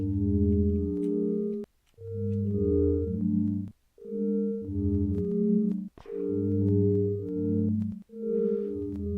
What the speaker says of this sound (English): it's the summed sine waves that create these little melodies